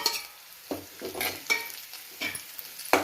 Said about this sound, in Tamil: போட்டுட்டு கருவேப்பிலை, கொத்தமல்லி தழை அது கூடவே போட்டு வதக்கிக்கலாம்.